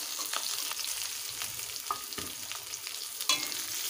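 Chopped onion and garlic frying in hot oil while making a soybean and potato curry, a steady close sizzle throughout with a few soft spatula stirs and light clinks against the pan.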